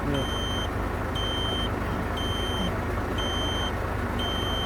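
An Iveco Astra truck sits stationary with its engine idling, a steady low rumble running throughout, while a reversing beeper chirps at regular intervals about once a second and a voice talks over it.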